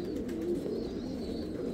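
Young pigeons coo softly and continuously close by, a low steady murmur with a faint high tone above it.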